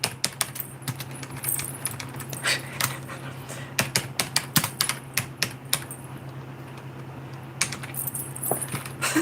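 Quick bursts of clicking keystrokes on a computer keyboard, close and crisp, arriving in uneven clusters with short pauses in between over a low background hum.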